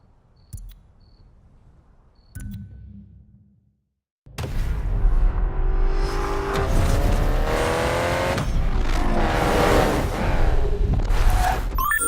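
A Honda S2000 VTEC engine in the video game Need for Speed Payback revs hard and climbs to a high-pitched wail toward 9,000 RPM, holding loud and steady after a few quiet clicks and a short pause.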